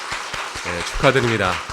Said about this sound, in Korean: 여러분께 인사드릴 때 큰 박수로 축하해 주시면 감사하겠습니다.